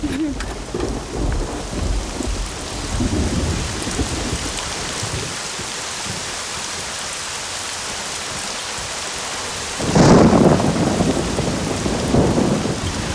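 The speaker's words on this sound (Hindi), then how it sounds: "लेकिन बारिश आ गई।" Steady heavy rain pours down during a thunderstorm, with a loud, close rumble of thunder swelling up near the end over the constant hiss of the downpour.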